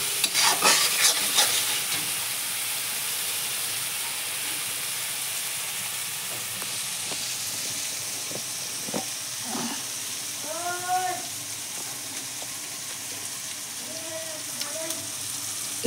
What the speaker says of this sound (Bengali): চারো সাইড থেকে চতুর্দিক থেকে লেড়ে ভালো করে হিলিয়ে একদম ফ্রাই করে নিতে হবে